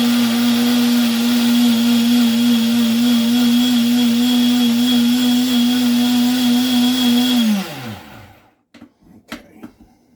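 A countertop blender whirs at a steady high pitch as it mixes Dutch baby batter of eggs, milk, flour and sugar, loud and close, then winds down and stops, followed by a few clunks.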